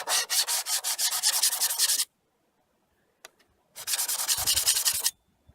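A file rasps along the edge of a steel cabinet scraper in two bursts of quick back-and-forth strokes, close and fairly loud, separated by a short silence with a couple of faint clicks.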